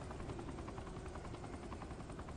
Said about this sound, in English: He brought us a Cobra attack chopper